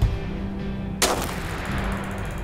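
A single sharp sniper rifle shot rings out in This War of Mine, a sudden loud crack about midway over a steady low background ambience.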